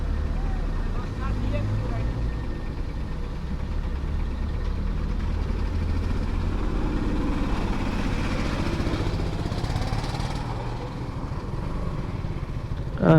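A Suzuki Gixxer Monotone motorcycle idles at the toll gate of the Payra bridge in Bangladesh, a steady low engine drone that runs the whole time under wind and people talking nearby.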